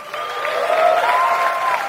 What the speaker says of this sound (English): his captive audience has no choice but to applaud this abject public failure